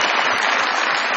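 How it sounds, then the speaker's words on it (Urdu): A studio audience bursts into steady, dense applause for a prize winner awarded a motorcycle on a Pakistani comedy show, filling the whole stretch evenly without pause. "بہت ساری تالیاں"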